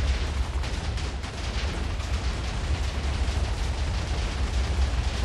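A Minecraft TNT explosion rumbles as a dense, continuous roar of blasts with no pauses, loud and close.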